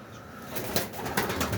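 Pigeons of an old breed cooing close by in a loft, soft throaty calls repeating over a few seconds with some rustling, no talking.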